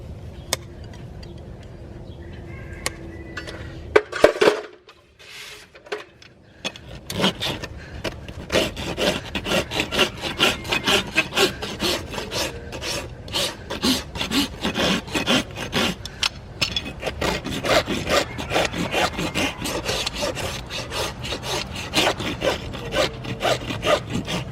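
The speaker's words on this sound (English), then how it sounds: "Now you're just smoothing it out with the file." A farrier's rasp files a horse's hoof smooth during shoeing, with a few clanks and scrapes first, then a long run of rapid, rhythmic rasping strokes, close and loud.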